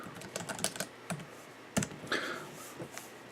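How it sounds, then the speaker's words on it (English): Irregular bursts of key clicks from a compact Flip Turn keyboard case on an iPad Air, close and fairly crisp, with short pauses between runs and no talking. "I have found so far just typing on this thing, the keys tend to feel a little inconsistent in some ways."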